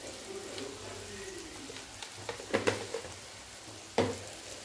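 Vegetables are stirred with roasted peanut powder in a pan over low heat, giving a soft background sizzle broken by a few scraping, clattering stirs of a spoon, fairly quiet and close.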